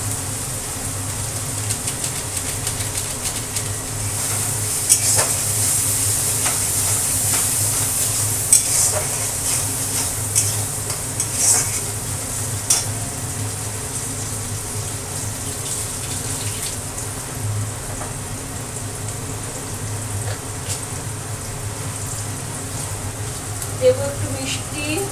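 Onions fry in a pan with a steady sizzle, broken by scraping stirs and light clinks over a constant low kitchen hum. Seasoning such as salt and turmeric goes in, and no one talks.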